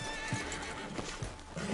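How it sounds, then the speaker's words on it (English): Horse neighing and hooves in a video game set in scrubby woodland, repeated low thuds of hoofbeats under a continuous whinnying, steady and fairly loud with no talking. "Send your horse somewhere safe."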